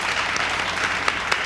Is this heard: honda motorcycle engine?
no